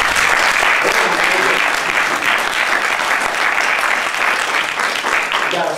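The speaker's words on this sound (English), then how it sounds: "Give them a round of applause." An audience at a Public Enemy event gives loud, continuous applause for several seconds, dense and close throughout.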